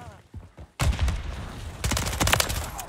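Call of Duty Modern Warfare III team deathmatch gunfire on the Mercado Las Almas map, starting with a few faint shots, then bursting into loud rapid automatic fire that ebbs and surges again.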